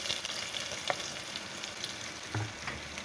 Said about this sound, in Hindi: उसमें ऑयल देखिए बहुत अच्छी तरह से गर्म हो चुका है। मैं इसके अंदर प्याज शामिल कर दूँगी।